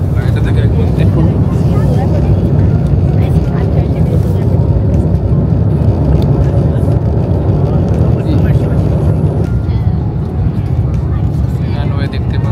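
Inside the economy cabin of a Qatar Airways airliner on flight QR184 from Vienna to Doha, a steady, loud broadband roar of engines and airflow fills the landing approach, with a slight dip near the end.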